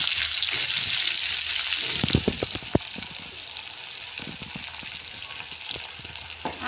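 Chilies, besan and ginger-garlic paste frying in a pan, a steady loud sizzle with a few sharp crackles and spatters partway through, no voices.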